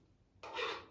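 Topping spread onto bread slices for garlic bread, a single soft rasping scrape of a knife across the bread, close and short after a moment of quiet.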